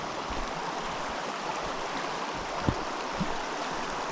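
A small creek flows nearby, a steady close rushing and burbling of water with a couple of brief splashes and no voices.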